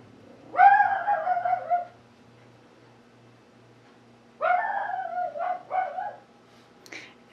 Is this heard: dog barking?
yes